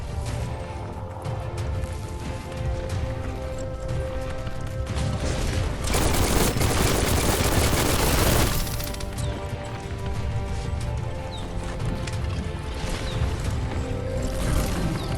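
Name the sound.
gunfire and bullets in the video game Biomutant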